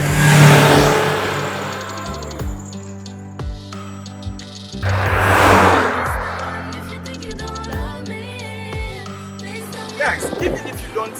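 The 1.3 litre petrol engine of a 2012 Toyota Vitz with an automatic transmission revs up in two strong surges, each dropping back to a smooth idle, with lighter blips of the throttle near the end.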